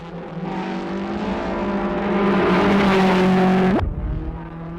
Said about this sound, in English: Out of the dusk, the sole remaining Lancia.